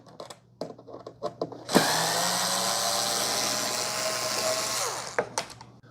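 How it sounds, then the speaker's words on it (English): A power screwdriver removes Phillips screws from a Keurig K-Duo coffee maker: a few light clicks and handling knocks, then a loud, close, continuous whirring burst of about three seconds that winds down, followed by more clicks. "So I'm going to take out these 5 screws. They're Phillips."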